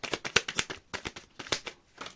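Tarot cards are shuffled in quick rhythmic bursts, a string of crisp riffling flutters close by with brief pauses between them and no talk.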